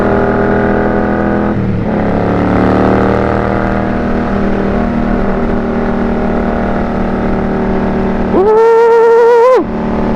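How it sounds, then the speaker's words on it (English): A motorcycle engine revs in weekday New York City traffic, a loud, steady droning growl with a brief dip early on, then a sharp rising whine near the end before settling. "open this engine up a little bit. Get those pistons pistoning"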